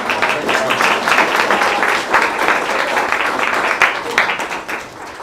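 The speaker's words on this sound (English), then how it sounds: "A round of applause." Audience applause at a school district board meeting, a burst of clapping from a room of people with a few scattered cheers, tapering off near the end.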